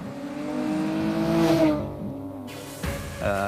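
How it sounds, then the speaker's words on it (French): A Volkswagen Golf 3 VR6 engine hums while driving, a smooth, round, layered drone that rises in pitch as the car accelerates, drops at a gear change and then climbs again, heard close from inside the car. "La sonorité de ce moteur est quand même assez rond en fait."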